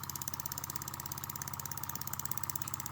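A small twin model engine, an MF Twin, runs on compressed air with a fast, even chuffing beat, close up and steady throughout, slightly wet and sputtery.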